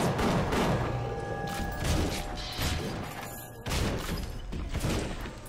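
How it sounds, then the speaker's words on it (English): Gunfire in BioShock, a dense run of game shots and mechanical clatter with thuds and crashes over a busy, continuous mix. "He's just shooting through."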